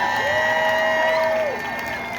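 A crowd at a freedom rally in Boston applauds and cheers loudly while a long, sustained whistle-like tone rises over the noise before fading.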